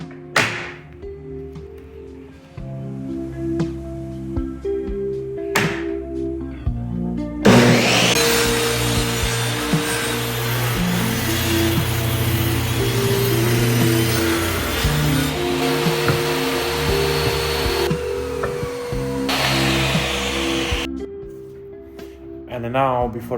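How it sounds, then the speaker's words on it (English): A table saw rips the edge off a cedar board: a loud, sustained whining cut of about thirteen seconds, bracketed by quieter workshop knocks and the saw spinning up and down, with music playing underneath. "I'll set up my table for 6 inch and cut the other side of the wood"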